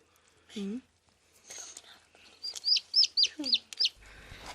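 High, thin peeping chirps from small chicks, a quick series of short calls near the end, with a brief lower bird call and soft whispering earlier.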